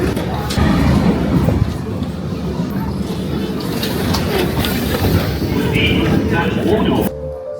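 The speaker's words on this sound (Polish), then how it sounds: "Zaraz będzie jakieś metro." A Berlin metro train rolls in, a loud, steady rumble with rail clatter running for about seven seconds before cutting off abruptly; voices talk faintly underneath.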